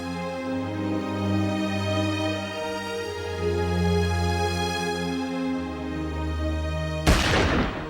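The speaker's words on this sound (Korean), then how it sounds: "그의 죽음에 바쳐진 3발의 총소리" Three-shot military funeral gun salute for an American war veteran: sustained, mournful music plays alone, then a single sharp, loud rifle volley cracks out near the end.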